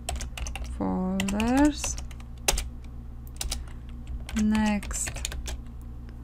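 Rapid clicking of computer keyboard keys while code is entered in the Excel VBA editor, close and steady beneath a voice speaking throughout.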